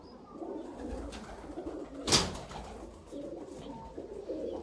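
Pigeons for sale coo softly in low, rolling phrases close by, with a brief sharp flutter or scrape in the middle and no voices.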